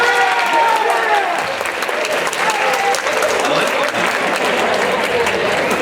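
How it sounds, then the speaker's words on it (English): A loud, sustained round of applause from a morning audience greeting the county prosecutor, dense clapping filling the room at an even level, with faint crowd voices mixed in. "That's the loudest round of applause I've ever gotten."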